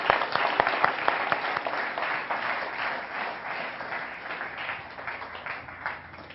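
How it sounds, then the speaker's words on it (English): Audience at a tech conference talk bursts into steady, dense applause that holds loud and even throughout, many hands clapping together with no voices over it. "Can you guys give a applause for Benjamin?"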